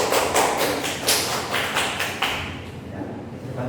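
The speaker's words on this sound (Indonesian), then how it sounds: "beri aplaus untuk temannya" Classroom applause for a student after a presentation, a dense wash of many hands clapping with distinct sharp slaps, loud and steady before gradually thinning out.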